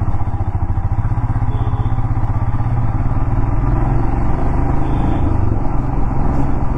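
A Royal Enfield Himalayan 450 rides along with a loud, steady engine drone and rapid pulsing thrum, heavy low rumble and wind, constant throughout with no pauses.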